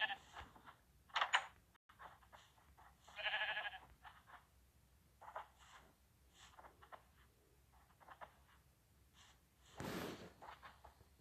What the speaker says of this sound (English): Why do I have sheep here?